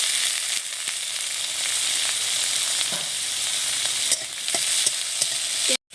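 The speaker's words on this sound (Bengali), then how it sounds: "পেঁয়াজ ভেজে নিয়েছি, চিংড়ি মাছ দিয়ে দিচ্ছি।" Shrimp frying with already browned onions in a hot pan, a loud continuous sizzle and hiss close up with occasional stirring scrapes and clicks, steady throughout before a brief sharp cut near the end.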